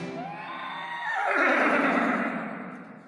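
A horse neighs loudly and close, a single long whinny that rises and then trails off, heard alone without talk.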